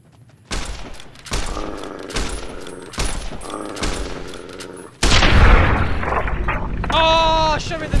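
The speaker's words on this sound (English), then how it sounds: "Oh, someone's shooting." Gunfire in Fallout: New Vegas, with a run of sharp, loud shots spaced about a second apart, then a denser burst of rapid fire and a booming blast, over a continuous game soundscape.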